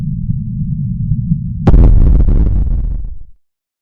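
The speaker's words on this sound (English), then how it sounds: "The first phase of the explosion happens within less than a second." A nuclear detonation in a major city, heard as a low rumbling drone that suddenly erupts into a loud, sharp blast, then a roaring, crackling burst fading to silence after about three seconds.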